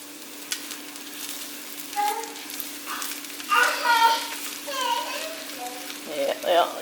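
Crispy rice stir fry sizzles steadily in a hot pan, a constant close hiss underneath voices that talk intermittently over the cooking.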